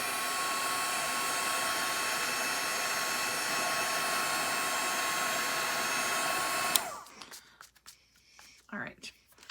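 A heat tool blows steadily on paper for a salt and ink background, a continuous close whooshing roar that cuts off near the end and gives way to light paper rustling.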